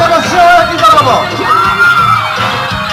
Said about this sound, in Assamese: সকলোৱে হাত চাপৰি দি যাব লগতে চিঞৰে দি যাব